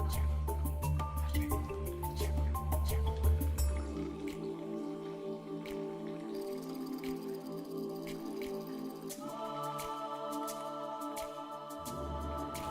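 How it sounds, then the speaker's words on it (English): Thandai mixture strains through a sieve into a large bowl, giving soft, scattered drips and wet squishing as it is pressed, quiet and close with no voices. "in a large bowl strain the mixture with the help of a sieve"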